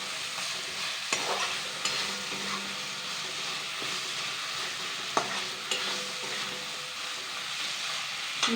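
Small carp fish curry cooking in a chilli spice paste in a pan, a continuous sizzle with repeated sharp stirring knocks and scrapes.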